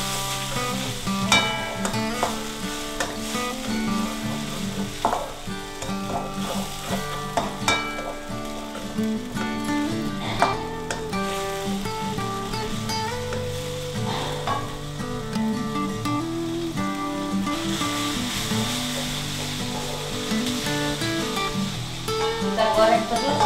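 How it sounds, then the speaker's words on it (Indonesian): Ground garlic and shallots fry in hot oil for a chicken soup, a steady close sizzle with occasional stirring clatter, heard alongside music and some talking. "Goreng terus bawang halusnya sampai wangi ya, dan juga warna."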